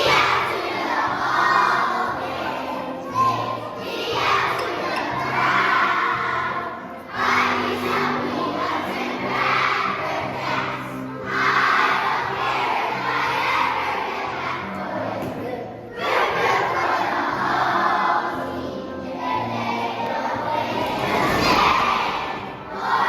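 A crowd of PE students sings a song as a cheer, loud massed young voices chanting together with shouts and cheering swelling and dipping across the phrases.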